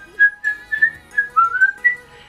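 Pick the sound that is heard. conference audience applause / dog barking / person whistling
person whistling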